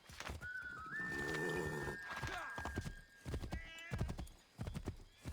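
A horse in Assassin's Creed 3 Remastered: close hoof clip-clops and snorts, then a long high whinny, followed by more uneven hoof beats and shuffling, moderately loud with no talking.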